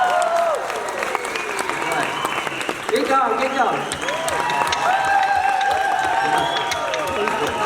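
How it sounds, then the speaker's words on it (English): People clapping during a horse training session: a continuous patter of hands that goes on throughout, mixed with overlapping talk and calls from the people nearby. "All right, start clapping, guys."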